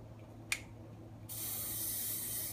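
Aerosol hair spray, Big Sexy Hair brand, released in one steady hiss lasting over a second after a click, close and quiet in an otherwise still room.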